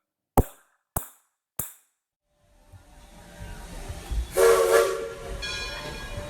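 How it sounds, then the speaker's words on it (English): Train departure sound effect: three sharp percussive hits, a moment of silence, then a rolling railway rumble building with a loud horn-like blast before trailing on. "The train is now leaving the Interpretation Station."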